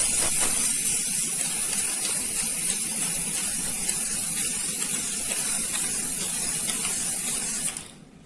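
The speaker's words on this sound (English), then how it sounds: "Now I'm going to spray the white contrast on this material, T-part." A steady, loud hiss of white contrast aerosol is sprayed onto a steel T-part for magnetic particle testing, continuous for several seconds and then cut off abruptly.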